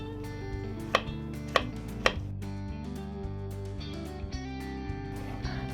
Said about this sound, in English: I'm cutting them into chunks so that they don't take so long to boil and get done